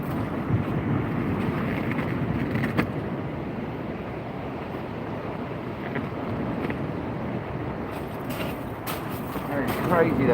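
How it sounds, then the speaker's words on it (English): Cold wind blows hard at sea around a kayak angler, a loud continuous rumbling buffet of wind against the microphone with a wash of water beneath it, and a voice comes through briefly amid the gusts. "It's crazy, that wind."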